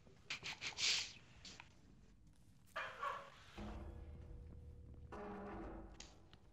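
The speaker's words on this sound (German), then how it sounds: "Warum bellt mein Hund?" A pet dog barks at home, a few faint, sharp yips close together at first and another short bark a little later, distant and quiet beneath low background noise.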